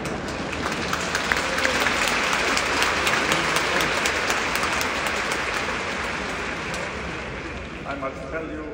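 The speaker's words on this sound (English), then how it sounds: "When they sang this aria, след изпълнението на тази ария, they get a standing ovation." An audience at a concert in Sofia applauds after a Puccini tenor aria, a loud sustained wash of clapping that holds steady and fades slightly near the end.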